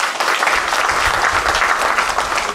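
Loud, dense applause fills the room from an audience at an off-road expedition event in Indonesia, continuous and close for a couple of seconds.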